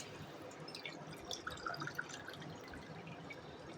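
Water drips and trickles into a pot for cooking rice, a soft broadband wash with small splashy bursts midway, fairly quiet and with no voices.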